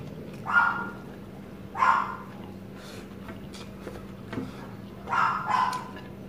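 Three separate dog barks spaced a few seconds apart, moderately close, over a low constant background hum.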